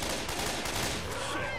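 Dense, continuous gunfire in the zombie shooter game Left 4 Dead 2, rapid overlapping shots forming a loud, unbroken barrage with a mix of game effects behind it.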